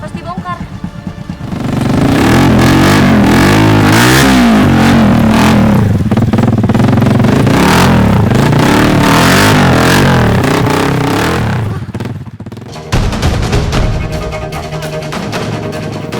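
A motorcycle engine revs hard and close on a steep dirt road, a loud, rough, wavering roar with clattering that climbs and strains for several seconds, then drops off and settles into a lower steady running note.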